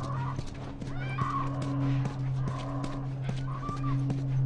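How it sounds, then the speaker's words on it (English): A horse whinnying in The Last of Us, its neighs rising briefly a few times over a steady low engine-like hum and faint clip-clop, close and moderately loud throughout. "Stay with the horse."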